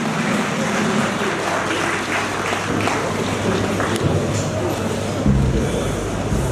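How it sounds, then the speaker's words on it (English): Audience at an independent music festival award presentation applauds steadily, a dense wash of clapping with crowd murmur lasting several seconds at moderate level. "A round of applause for him."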